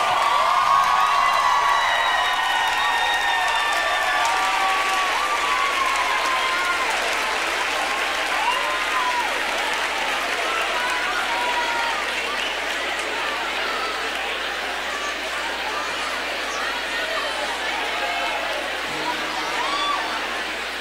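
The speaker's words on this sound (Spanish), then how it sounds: "¡Un aplauso!" Loud, sustained crowd applause with cheers and whoops fills a concert hall at a band's show, steady for about twenty seconds before easing slightly near the end.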